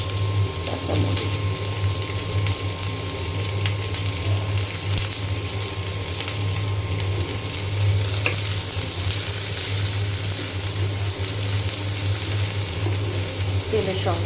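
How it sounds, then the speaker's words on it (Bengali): Onion and green chilies fry in hot oil with a dense, steady sizzle and crackle lasting throughout, close by and loud, with faint scraping now and then. "তেলের সঙ্গে খুব ভালো করে আমি ভেজে নেব"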